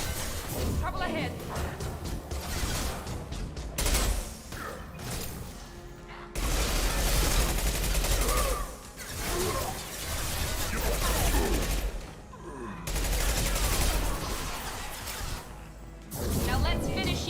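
Mass Effect 2 combat sounds off as sustained bursts of automatic gunfire and heavy impacts, loud and dense in long waves with brief lulls between them, and voices talking throughout.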